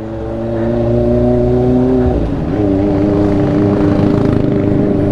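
A Kawasaki ZX25R inline-four fitted with an IXIL exhaust revs up loud and close, holding a steady high-pitched wail. Partway through it drops briefly and then climbs straight back to a sustained scream.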